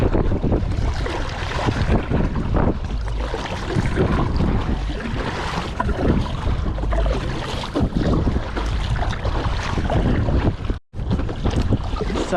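Strong wind roars steadily across a lake around a paddleboard angler, buffeting the microphone with loud, continuous rumbling gusts and no talk.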